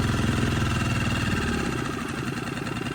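Outboard engine on an inflatable SeaPro fishing boat near the shore runs with a close, steady, throbbing mid-pitched drone that holds throughout with no pauses.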